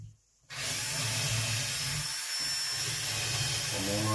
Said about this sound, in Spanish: Y taladramos lo que hemos marcado.